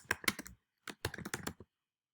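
Fingers type on a computer keyboard in two short, close runs of clicky keystrokes separated by a brief pause, then quiet.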